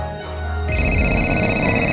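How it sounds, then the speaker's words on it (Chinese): A telephone ringtone chimes in a Minecraft-style animated game, sustained tonal ringing that starts partway through and continues loudly to the end. "光头强，你电话响了。"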